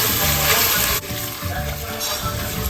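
Minced meat hits a hot pan already holding minced ginger and garlic, giving a loud continuous sizzle with stirring scrapes, which drop to a softer crackle after the first second.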